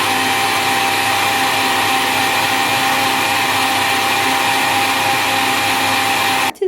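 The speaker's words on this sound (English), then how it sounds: "I like to blend the greens first, then I add my fruits. All right, so we're going to blend this" A countertop blender runs at a steady high roar while it purees leafy greens for a green smoothie. The whirring is loud and close and holds constant throughout, then cuts off abruptly at the end.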